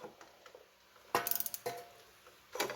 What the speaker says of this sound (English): I got my torque wrench set on 55 foot-pounds.